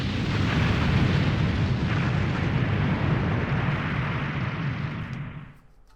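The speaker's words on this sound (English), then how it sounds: "Kaboom!" A huge explosion tears through a chapel in a fantasy story scene, a sustained loud roaring blast with rumbling debris that holds for about five seconds before quickly dying away.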